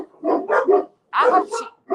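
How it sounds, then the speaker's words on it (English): Dogs bark close and loud in quick clusters of sharp yaps, with a brief pause between volleys. "these dogs are crazy"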